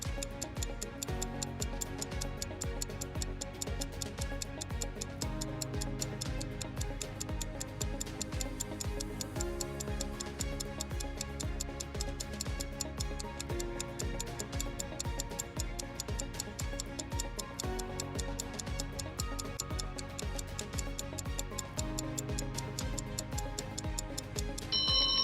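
A countdown timer for a classroom activity ticks steadily and evenly, each click crisp and regular, running continuously over a soft musical bed.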